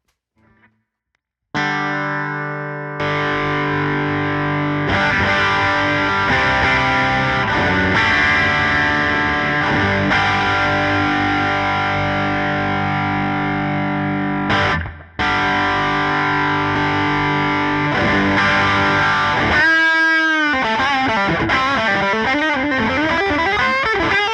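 An electric guitar rings through stacked Tone City Double and Durple distortion pedals, playing loud, sustained, heavily saturated chords almost without a break, with a brief cutoff midway and a swelling wobbling note near the end.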